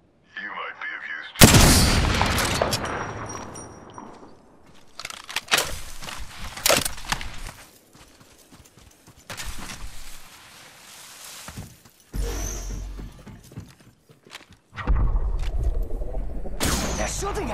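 Bursts of gunfire in the shooter game Apex Legends crack out loud and close, with rapid volleys, single shots and quieter gaps between, and a voice speaks at times.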